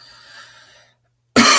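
A single sharp, loud cough bursts in near the end, close to the mic, after a stretch of faint background hum and a brief silence.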